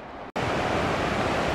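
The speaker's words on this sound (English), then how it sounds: "There it is, the Deschutes River." Rushing water of the Deschutes River heard as a broad, steady roar with a brief dropout near the start, loud and continuous with no voices.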